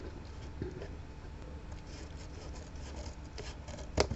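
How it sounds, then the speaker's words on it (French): Scissors cut through a thick ribbon flush against a handmade card: quiet, close scraping and snipping with soft rubbing textures and one sharper snip near the end, no voices. "J'essaye de le découper au ras de ma carte."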